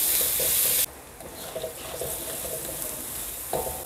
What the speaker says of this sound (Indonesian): Ditumis sampai harum.